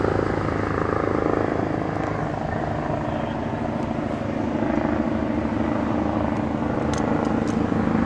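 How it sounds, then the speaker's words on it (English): Medical helicopter arriving to land at a crash scene on Route 240 in Fairhaven, a steady, loud rotor thrum and engine drone that fills the whole stretch without letting up. "it sounds like we have the Medflighted coming in now."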